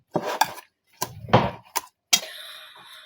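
A wire whisk clatters against a mixing bowl as ingredients are mixed, in a few short separate metallic knocks and scrapes, the last ringing out briefly, close by and alone.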